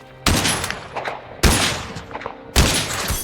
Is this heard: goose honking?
no